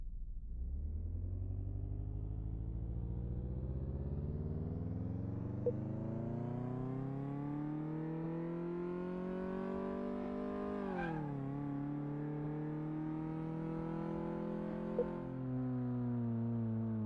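A car in Car Mechanic Simulator 2018 accelerates on a test track, its engine drone climbing steadily in pitch for a long stretch. It drops briefly at a gear change, then keeps pulling upward, close and continuous.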